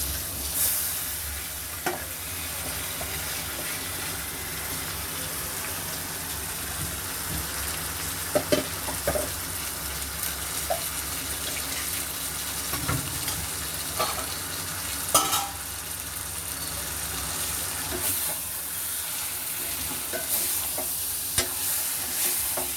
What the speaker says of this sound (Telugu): ఇప్పుడు కలిపి పెట్టుకున్న ఈ చికెన్ని వేసేసేయాలి.